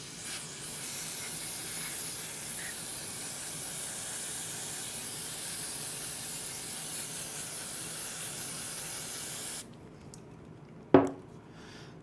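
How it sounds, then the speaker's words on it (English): Carburetor cleaner sprays onto the outside of a lawnmower carburetor as a steady, close hiss lasting about nine and a half seconds. It cuts off sharply and is followed by a short knock. "first I want to use some carburetor cleaner to remove any debris that's on the outside of the carburetor"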